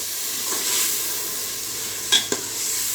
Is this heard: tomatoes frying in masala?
yes